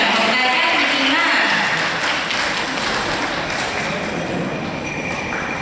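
An audience applauds loudly as young kindergarten children come on stage at a school graduation ceremony, dense sustained clapping filling the hall and slowly easing.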